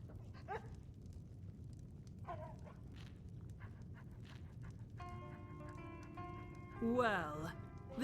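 A dog in the Skyrim video game gives a few faint, scattered barks and yips under a low ambient rumble, and a brief whimper rises near the end.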